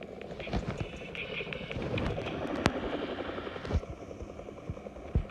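Helicopter rotor chopping in Fortnite, a steady whirring drone running throughout with game effects and sharp clicks layered over it, fairly close and continuous.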